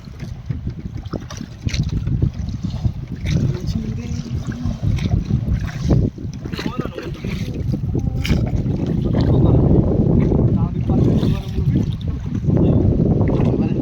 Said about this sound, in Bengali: প্রচুর হাওয়া হচ্ছে, এত হাওয়া হলে হয় না।